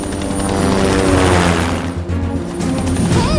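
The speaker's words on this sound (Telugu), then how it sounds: "రోడ్డు మీద హెలికాప్టర్ దిగుతోంది." A helicopter landing on a road roars loudly and close by, rotor and engine noise filling the air with a steady, heavy thrum.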